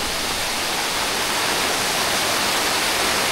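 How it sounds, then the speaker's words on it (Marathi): A forceful waterfall plunges into a deep valley in Konkan, a loud, continuous broadband roar that stays even and unbroken throughout, with no voices. "हा बघा किती फोर्सने पाणी येतं आहे ना. हा धबधबा आहे"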